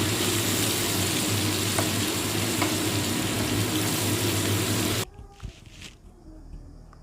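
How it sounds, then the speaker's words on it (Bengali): Boiled peanuts frying in a pan for a Bengali vrat recipe, stirred with a loud, dense continuous sizzle that cuts off abruptly, followed by a few quieter clinks and handling sounds. "এবার আমি ভালো করে নেড়ে দিচ্ছি।"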